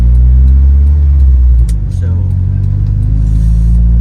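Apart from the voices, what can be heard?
Honda Civic with B20b engine driving, revving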